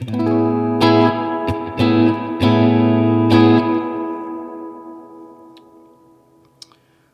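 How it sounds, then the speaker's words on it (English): Sustained chords on a PRS Silver Sky electric guitar with a wide, washy ambient reverb tail, several strums ringing out and slowly decaying into near silence, with a faint click at the end. "now I'll throw some ambient reverb on this"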